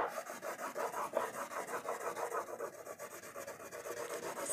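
Yellow crayon colouring on paper for a children's drawing exercise: a steady, close scratchy rasp of repeated back-and-forth strokes in an even rhythm, with no talk.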